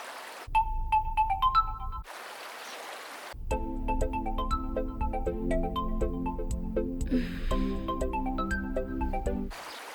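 Phone ringtone of an incoming call, a repeating electronic melody of bright tones that plays in bursts with short silent gaps and carries on steadily for several seconds, fairly loud and close.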